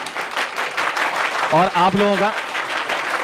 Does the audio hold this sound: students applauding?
yes